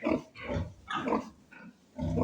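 Several short, rough pig grunts in bursts, close and fairly loud, with brief pauses between them.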